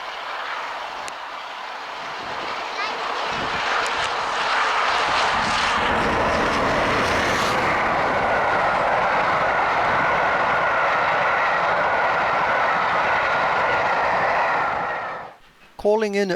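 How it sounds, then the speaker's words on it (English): Steam locomotive 60163 Tornado hauls the return Torbay Express rail tour through Exminster, a loud, steady, broadband roar that swells and holds for most of the pass before dropping away abruptly near the end. "we see 60163 Tornado pass through Exminster with the return Torbay Express"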